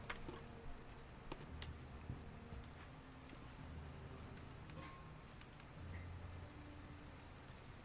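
Steady rain falls in Valheim, a dense, even hiss with scattered faint drips and taps running without pause, quiet and uninterrupted by voices.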